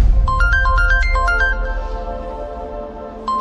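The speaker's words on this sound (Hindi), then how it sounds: "मेरी बेटी का फोन आ रहा है।" A phone ringtone plays loud and close in a quick melodic beeping pattern, pauses after about a second and a half, then starts again near the end.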